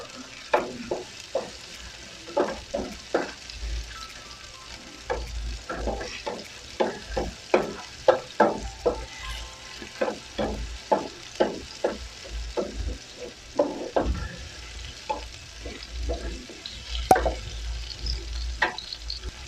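Tomatoes fry in a pan for a salmon belly and spinach dish, a continuous close sizzle broken by repeated scraping stirs at an uneven rhythm, with no talking.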